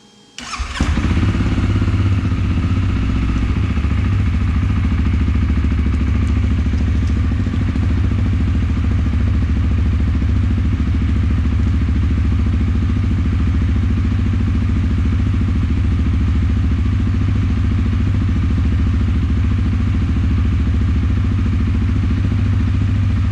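An ATV engine cranks and starts, then runs at a steady loud idle with a throaty rumble and mechanical clatter, close by, with no talking.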